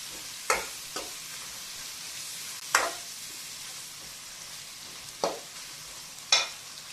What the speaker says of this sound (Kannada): ಅದರಲ್ಲೇ ನಾನು ಈರುಳ್ಳಿಯನ್ನು ಕಟ್ ಮಾಡ್ಕೊಳ್ತೀನಿ, ಫ್ರೈ ಮಾಡಿಕೊಂಡು ಹಾಕ್ಕೊಳ್ತೀನಿ